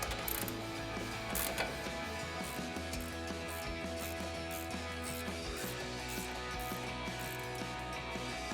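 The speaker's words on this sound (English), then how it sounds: "All right, now we're gonna tighten up our upper ball joint. We're gonna grab a 21mm ratcheting wrench." A 21mm ratcheting wrench tightens an upper ball joint on a 2005-2023 Toyota Tacoma during a suspension lift install, giving quiet mechanical clicking over a steady low hum, close by.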